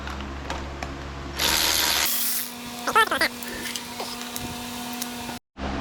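Breather bolts come out of a Harley-Davidson Sportster carburetor in a workshop, with a brief burst of spraying or hissing, then small metallic clicks and scrapes over a steady background hum.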